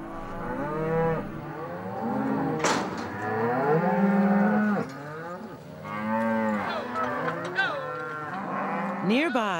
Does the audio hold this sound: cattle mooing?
yes